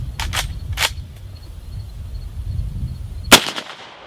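Single gunshot fired at a target with a Chiappa firearm, a sharp, loud crack near the end that decays quickly, preceded by a few faint clicks and low rumbling background noise.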